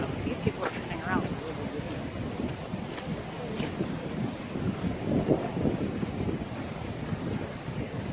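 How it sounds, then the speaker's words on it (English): Strong, cold wind buffets the microphone on a hiking trail in Zion National Park, a constant rumbling roar with gusts swelling and easing, while people talk faintly beneath it. "Oh my gosh, it's windy. It's windy and cold."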